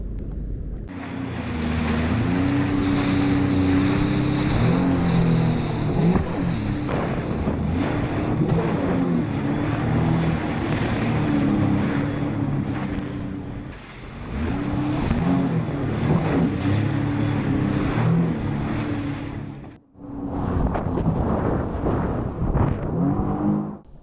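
Sea-Doo, Yamaha and Kawasaki jet skis ride together around an island near a surf bar, and a loud, close engine drone holds steady with shifting pitch, buffeted by wind on the microphone, cutting out briefly near the end before resuming.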